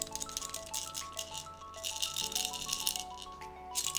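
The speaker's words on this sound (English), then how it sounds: "Yeah, it's rattle sounds." A pink three-ball baby rattle shaken steadily, its bright clicking and jingling repeating in a continuous busy pattern over a faint musical tone, with no voices.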